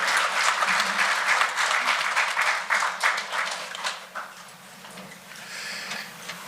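Applause from a seated audience for the President of Zimbabwe at the commissioning of a university medical centre, a dense steady clatter of many hands that thins and fades toward the end.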